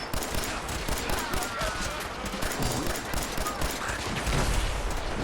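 Sustained gunshots in the video game Fallout 4, with bursts of weapon fire crackling over a steady, dense background of combat noise, fairly loud and close throughout.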